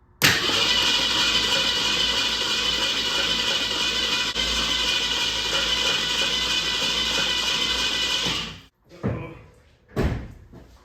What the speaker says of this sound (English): Let's go ahead and crank her over, see if she starts spitting for us.